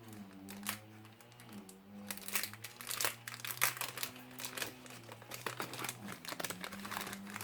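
Paper card crinkling and rustling as it is handled and opened out from the middle, close and crisp with repeated sharp crackles over a steady musical background.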